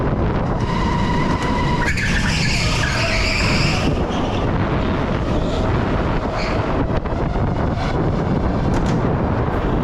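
Rental go-karts at Teamsport Mitcham, an indoor karting track, racing through the final corner: loud, continuous engine whine with tyre scrub and rising and falling pitches as karts pass close by.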